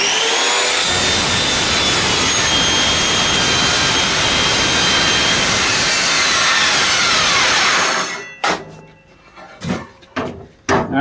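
A circular saw fitted with a metal-cutting blade makes a straight cut through the end of a metal piece, screaming loud and continuous for about eight seconds before spinning down into a few short bursts.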